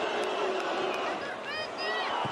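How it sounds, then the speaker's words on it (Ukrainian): Crowd noise fills a football stadium during a Karpaty–Poltava match, a steady roar of many voices with faint whistles and chants, and no commentary over it. "шум стадіону."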